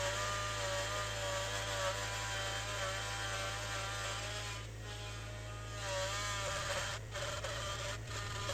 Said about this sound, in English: To get that flat side on the pipe, we have used our jointer planer that is hardly ever used anyways.